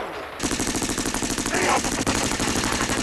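Machine-gun fire from a 1967 Finnish comedy film scene bursts in abruptly and rattles on in a rapid, unbroken stream of loud close shots, with a brief gap near the end before it resumes.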